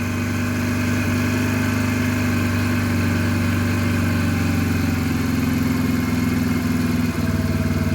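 A Yamaha XT125X motorcycle idles steadily after a mixture adjustment, a close, constant single-cylinder thrum that holds throughout with a slight lift in pace partway through.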